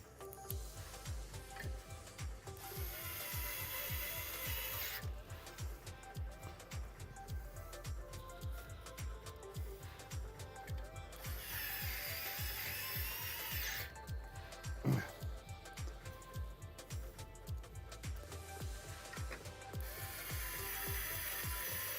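Screws being driven into the top of an ASUS ROG Hyperion case during a PC build, heard as a steady run of close ratcheting clicks that comes in repeated bursts with brief pauses between them.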